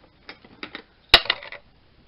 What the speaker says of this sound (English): And the idea is you just cut off this bit